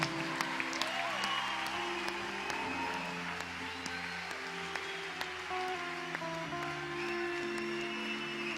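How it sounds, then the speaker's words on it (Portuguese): A church congregation claps together during worship, a steady wash of applause mixed with sustained music chords and some voices, moderately distant and continuous. "Dê uma salva de palmas a Jesus"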